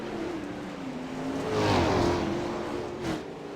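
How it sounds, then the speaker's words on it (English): 410 winged sprint cars race on the dirt track at Limaland, engines roaring and rising in pitch as the pack sweeps nearer and passes, then fading with another brief surge of engine noise. "So as they come back to the start-finish line, into turn one, looks like Strickler has been able to clear"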